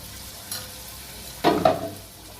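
Cabbage frying in a pan is stirred, making two quick scraping bursts over a faint, steady sizzle, close by and brief, with no speech.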